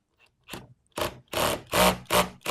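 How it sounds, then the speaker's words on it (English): A drill driver drives a screw with its torque clutch slipping, giving a run of short, sharp ratcheting bursts close by that repeat in a quick, uneven rhythm and grow stronger. "You can hear that torque setting on your driver doing what it's supposed to do."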